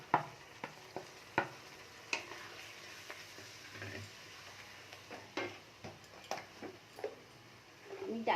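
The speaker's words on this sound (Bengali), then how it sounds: "সামান্য একটু জল দিয়ে দিলাম, আর এই গুঁড়ো মশলাগুলো সব একসাথে দিয়ে আমি ভালো করে কষে নেব।" Ground spices and a splash of water for rajma are stirred in a pan, with a soft sizzle and a series of light scraping ticks from the spoon, fairly quiet throughout.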